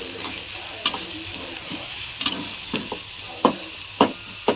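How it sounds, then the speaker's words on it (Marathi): Spices stir-fried with cooked onion and tomato in a pan: a continuous close sizzle broken by periodic scraping stir strokes, no voices. "आपण ते मसाले सगळे टाकून घेणार. चांगले परतून घ्यायचे मसाले."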